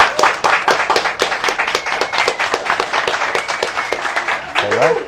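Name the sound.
applause from the audience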